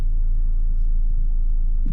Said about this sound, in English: I do like the sound of the exhaust.